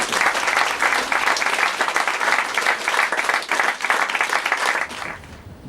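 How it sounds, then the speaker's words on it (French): Audience applause for volunteers at the inauguration of the La Courtine 1917 commemoration exhibition, a loud dense burst of many clapping hands that holds steady, then fades out near the end. "J'aimerais bien que vous les applaudissiez."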